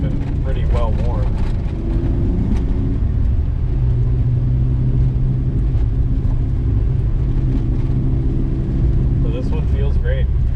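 A 1993 Suzuki Alto Works RS-R turbo with all-wheel drive and a five-speed manual gearbox being driven, heard from inside the cabin as a steady, loud engine and road rumble that continues throughout.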